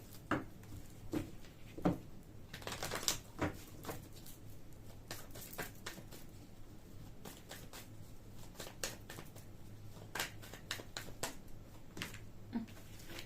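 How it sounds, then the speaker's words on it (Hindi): Tarot cards shuffled by hand during a card reading, giving soft papery riffles and taps that come in scattered bursts, with denser flurries near the start and again toward the end, close and quiet with no talk. "हम दोबारा से शफल करेंगे"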